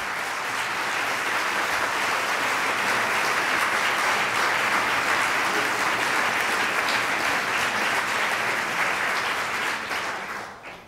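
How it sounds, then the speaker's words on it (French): Sustained, loud applause from an audience at a commemorative testimony event honoring speakers, a dense, even wash of many clapping hands lasting about eleven seconds before tapering off at the end. "Alors je vous demande s'il vous plaît d'applaudir Barbara Brix, Ulrich Ganz, Yvonne Cossu et J"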